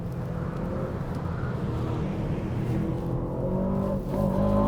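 An SUV driven hard around the Las Vegas F1 street circuit, its engine droning steadily at high load under rushing road and wind noise, then swelling louder as it accelerates near the end.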